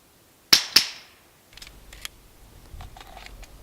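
A suppressed Glock 34 fitted with a Silencerco Octane 9 HD fires 147-grain Federal 9mm subsonic rounds at a 40-yard outdoor target. Two sharp, muffled cracks come in quick succession, followed by faint rustling.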